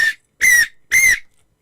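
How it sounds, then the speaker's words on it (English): A hand whistle blown as a safety signal gives three sharp, shrill blasts. A short chirp comes first, then two longer, steady toots with a pause between them. The whistle sounds close and loud, with no talking. "Every community should walk around with a whistle and go."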